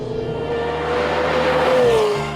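A McLaren 750S sports car being driven hard on a race track, its engine a loud, sustained roar with rising and falling pitch and a hint of tire squeal.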